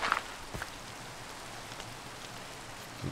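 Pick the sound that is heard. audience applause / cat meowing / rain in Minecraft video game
rain in Minecraft video game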